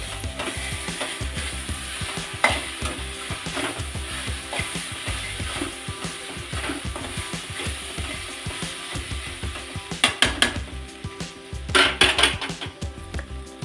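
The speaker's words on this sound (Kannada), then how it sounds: "ಇವಾಗ ಬೆಂಡೆಕಾಯಿ ಹುರಿದು ರೆಡಿ ಆಯಿತು." Okra fries in a pan while being stirred, a continuous close sizzle broken by scraping and clinks of the utensil against the pan, with a few louder clatters toward the end.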